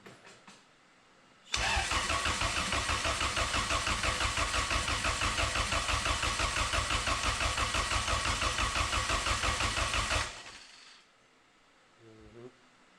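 A turbocharged Honda Accord's engine cranks on the starter with its ECU fuse pulled, so it gets no fuel and never fires. The loud, steady, rapid chugging runs for about nine seconds, then cuts off into quiet.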